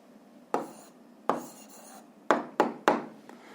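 Pen strokes on paper while writing down an answer to a physics problem, a few separate scratchy strokes at an uneven rhythm, close and fairly quiet.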